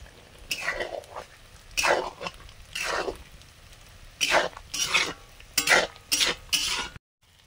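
Spice paste with Kashmiri chili powder and a little water is stir-fried in a pan, giving repeated bursts of sizzling and scraping at an uneven rhythm, close and moderately loud, before falling silent.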